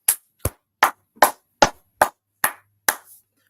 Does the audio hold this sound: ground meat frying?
no